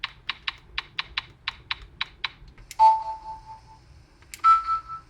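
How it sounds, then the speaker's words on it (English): Nintendo DS style menu sound effects from a 3DS theme: a quick series of soft clicking taps followed by two bright chime tones, each ringing briefly, heard alone without talk. "even gives you those nostalgic DS menu system sound effects"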